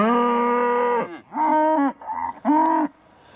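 Cattle mooing in a field on a farm with sheep, one long loud low moo followed by two shorter, rising calls close by, with a brief snort between them.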